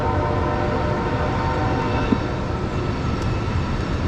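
A train horn sounds as the train enters Ohiopyle, a steady sustained drone with rumbling rail noise, heard at a moderate distance throughout and alone with no talk.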